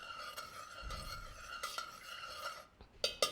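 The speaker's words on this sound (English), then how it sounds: "And give it a stir." A utensil stirs flavoring into a strawberry cheesecake lip balm mixture, giving soft intermittent scrapes and clinks against the container. The sound is quiet and close, with a faint steady hum underneath.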